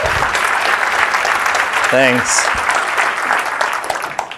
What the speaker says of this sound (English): Please, a big warm applause